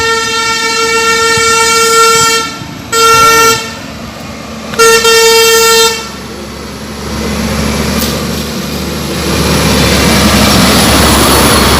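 A heavy truck on a community road near a quarry, first sounding a long, loud multi-tone horn in several blasts, then its engine rumble and tire roar swelling as it passes close by, with no talking.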